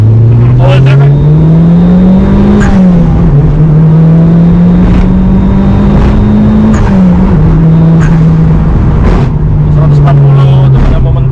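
Mitsubishi Lancer Evolution 7, all-wheel drive, revving hard while accelerating through the gears. A loud, steady engine drone rises in pitch with brief dips at shifts, heard from inside the car over constant road noise.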